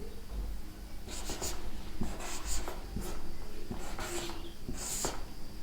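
Chalk or marker writing on a classroom board, a run of short scratchy strokes and taps spaced irregularly, close and fairly clear over a faint room hiss, with no talking.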